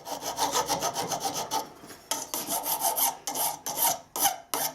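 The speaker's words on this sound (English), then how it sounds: "once it's tacked together in place, I'll file it back and V it out." A hand file rasping over varnished metal in a workshop, close and steady, a series of rough back-and-forth strokes with brief breaks between them.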